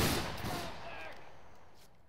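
Musket volley fire in a Battle Grounds III public linebattle, opening with a loud, dense burst of many shots that trails into a long rolling echo and fades slowly over about two seconds.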